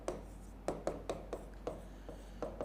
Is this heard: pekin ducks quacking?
no